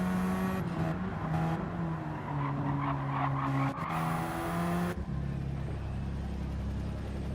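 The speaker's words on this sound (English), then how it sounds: "Feather these throttles through some of these corners. Tyres not wanting to grip." Race cars work through corners with feathered throttles, engine notes rising and falling at moderate distance. Tyres scrub and squeal as they lose grip, over a continuous mechanical rumble.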